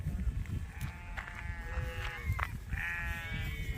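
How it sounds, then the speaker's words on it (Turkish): Several sheep bleat on a farm in Germany, their wavering cries overlapping outdoors at moderate distance, with a low rumble of background noise underneath. "Koyunları da buraya bırakmışlar."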